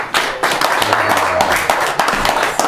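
An audience applauds after a Turkish poetry recitation, with dense, close clapping from many hands that runs steadily throughout.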